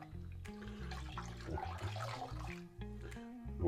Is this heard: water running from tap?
yes